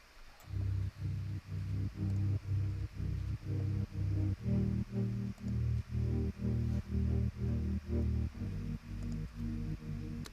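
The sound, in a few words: Synth patch played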